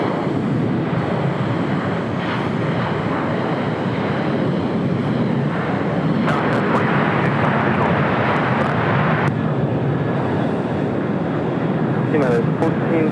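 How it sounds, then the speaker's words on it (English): A United Airlines Boeing 737-800 roars steadily through its takeoff roll, a loud, continuous broadband engine rumble that holds for the whole stretch, with wind buffeting the microphone and a voice talking over it. "Next takeoff heading to Vegas, United Airlines flight 1006, 737-800"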